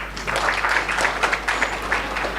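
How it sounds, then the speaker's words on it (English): An audience at a scientific conference applauds a speaker being welcomed to the podium, a dense, loud round of clapping over a steady low hum. "join me with a round of applause before he starts delivering his speech"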